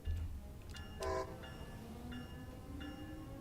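A locomotive in Train Sim World 3 on the Northeast Corridor powers up, a low engine rumble with a short horn-like blast and faint tonal whines, heard alone at low level.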